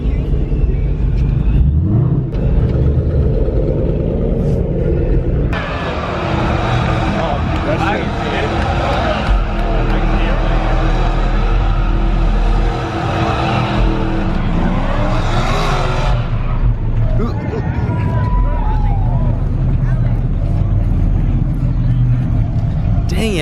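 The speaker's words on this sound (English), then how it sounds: "People are doing burnouts right over there." Cars at a Turkey Rod Run car meet takeover roar through burnouts, with revving engines and squealing tires, under near, frequent talk and crowd noise.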